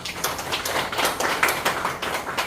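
A church congregation applauds, with a dense run of hand claps at a fairly even, moderate volume and no speech over it.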